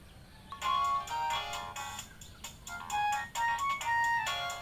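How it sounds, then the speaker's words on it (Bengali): A mobile phone ringtone plays for an incoming call, a repeating bright electronic melody of short tonal phrases, fairly close and clear over a quiet room with no talking. "জামাই ফোন করেছে।"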